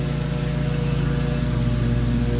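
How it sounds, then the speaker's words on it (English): A riding lawn mower's engine drones steadily at close range while cutting dewy grass, a loud, even mechanical hum with no pauses. "So now I'm mowing north"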